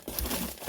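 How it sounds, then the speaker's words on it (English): Parcels and smaller and larger packages are shuffled around inside a box, giving a short, close crinkling and rustling burst. "Give it a nice big shuffle with some really interesting pieces in this box"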